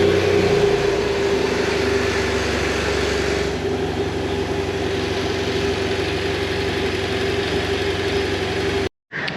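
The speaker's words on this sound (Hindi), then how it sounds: "हम बाइक को स्टार्ट करके चेक करेंगे कहीं से बाइक में कोई लीकेज वगैरह ना हो।" A 2011 BMW F650GS motorcycle engine idles at a steady, even hum, close by, after an oil change, then cuts out abruptly near the end.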